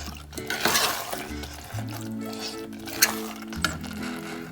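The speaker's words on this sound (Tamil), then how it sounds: "சிக்கன் ஆட் பண்ணி கொஞ்சம் நல்லா மிக்ஸ் பண்ணி விட்டுக்கோங்க." A spoon stirring chicken into masala in a cooking pot for chicken kulambu, with soft scraping, a few metal clinks and light sizzle under background music, no talk.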